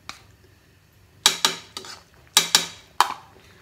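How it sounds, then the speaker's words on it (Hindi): A metal spoon clanking against a cooking pot while stirring thick black pepper soup: about six sharp, ringing knocks in irregular pairs after a quiet start, close and clear with no talk. "अब हम इसे घुमाएंगे घुमाएंगे घुमाएंगे।"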